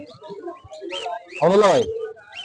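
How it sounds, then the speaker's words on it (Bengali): A yellow parrot at a Mirpur bird market gives a loud, harsh rising squawk amid chirps, with someone talking nearby. "এখানে সুন্দর একটা হলুদ টিয়া পাখি আছে"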